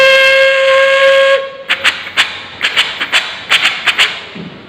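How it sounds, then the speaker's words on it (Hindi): A steam whistle sounds one long, loud, steady blast, then a train follows with a rhythmic run of heavy thumps and clanks from its wheels and cars. "हाँ ये रेलगाड़ी।"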